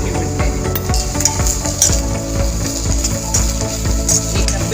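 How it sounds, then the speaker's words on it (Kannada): Bitter gourd chutney ingredients frying in oil in an iron pan, a continuous loud sizzle with frequent metallic scrapes and clinks of a stirring spoon against the pan. "ಈ ಥರ ಎಣ್ಣೆಯಲ್ಲೇ ಫ್ರೈ ಮಾಡಬೇಕು."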